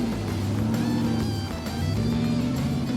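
A Nissan Y62 Patrol engine revs hard off-road, a loud, close, steady throaty drone with slight rises and dips in pitch and no talk over it.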